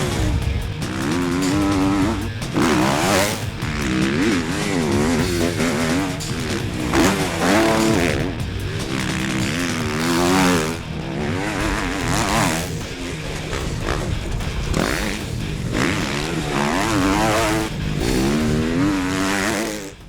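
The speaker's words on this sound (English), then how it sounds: "today we're testing the new KX250F out at my track here in Tauranga" A 2013 Kawasaki KX250F motocross bike is ridden around a dirt track in Tauranga, its engine revving and shifting continuously at close range with rising and falling pitch, loud throughout.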